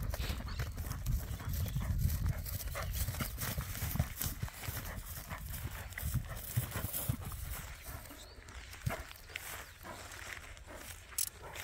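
A criollo horse moves over ground with steady, repeated hoofbeats clip-clopping up close, overlapping in an irregular rhythm against a rumbling low background for the whole stretch.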